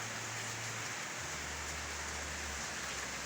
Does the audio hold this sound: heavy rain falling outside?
yes